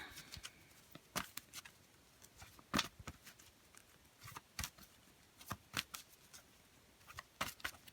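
Tarot cards are shuffled for a reading, giving irregular bursts of crisp, papery riffles and snaps, close and fairly quiet, with short pauses between bursts and no talking.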